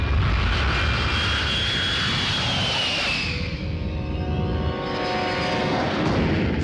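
Airplane engine on a landing approach into Tirupati, a loud steady roar that holds throughout with a rising whine, then shifts pitch partway as the engine tone changes, with no voices over it.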